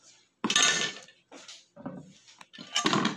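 A knife splitting a fresh pineapple for homemade jam: a few loud, crunchy cutting strokes with sharp onsets and short gaps between them, close up and clear.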